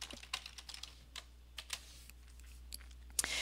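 Fingers type a search query on a computer keyboard, an irregular run of light, crisp key clicks up close over a steady low hum, ending with a slightly louder keystroke.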